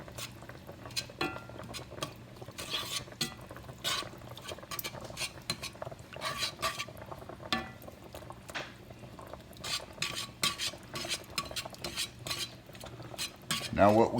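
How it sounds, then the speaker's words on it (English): A spoon stirs green chili into a chicken mixture in a metal pot, scraping and clinking steadily against the sides with a low background hum. "now, you've got your 1½ cups of green chili. Mix that in really well."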